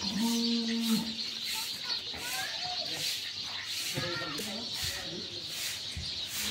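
Bulls being loaded onto a truck at a Manikganj cattle farm, with a single cow moo near the start over steady outdoor noise, shuffling and scattered human voices in the background.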